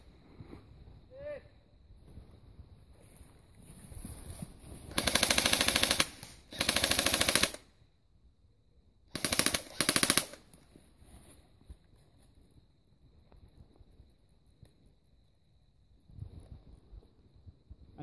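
Airsoft guns firing during an outdoor airsoft game: two long sustained bursts of rapid automatic fire, loud and close, then a shorter burst, with wind noise and occasional speech between them.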